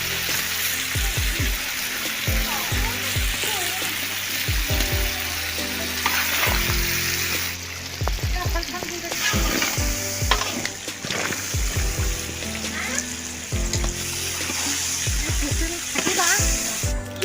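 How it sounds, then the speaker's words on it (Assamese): Green chillies fry in a pan for a homemade birthday meal, a steady close sizzle with repeated sharp clatters of stirring utensils against the pan throughout. "জলকীয়া ভাজি টেষ্টি হ'ব লাগিব হৈ গ'ল জলকীয়া ভাজি"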